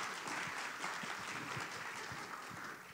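A crowd at a live political talk event in Himeji applauds in a steady, dense patter of many hands, heard faintly from a distance for a few seconds.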